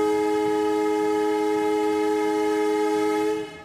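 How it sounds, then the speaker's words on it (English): A heritage steam train whistle at a railroad museum sounds one long, loud, steady blast that holds for over three seconds before cutting off, with no voices. "I see the look on the kids' faces as the train whistle blows or the compressor"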